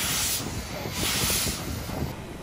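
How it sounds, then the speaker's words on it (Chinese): Steam locomotive, 79 years old, pulling into the Hualien harbour wharf with a steady loud hiss of steam and broadband rumble throughout, a low rolling undertone beneath, no talk. "79岁的国王蒸汽火车载了100位铁道迷驶进了花莲港码头"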